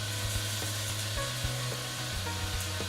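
Food sears on a George Foreman 15-serving indoor/outdoor electric grill, giving a close, steady sizzle. Soft repeated clicks and scrapes and a low constant hum run underneath.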